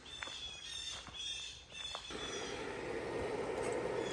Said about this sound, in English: Sound like crows or something.